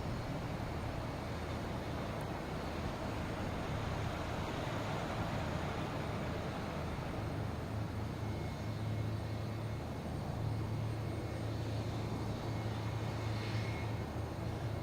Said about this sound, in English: It is Austrian Airlines 767 coming in from Vienna.